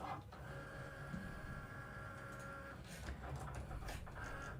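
A craft cutting machine cuts thick flock heat-transfer vinyl, humming with steady whining motor tones for a few seconds before the tones fade and scattered mechanical clicks follow.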